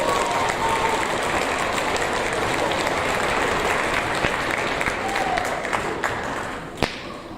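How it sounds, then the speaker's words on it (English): Sustained audience applause at a 6th grade awards ceremony as recipients come up, dense steady clapping filling the room for several seconds before tapering slightly. "You can give them an applause as they come up."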